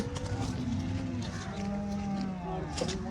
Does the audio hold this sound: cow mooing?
yes